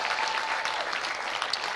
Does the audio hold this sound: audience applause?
yes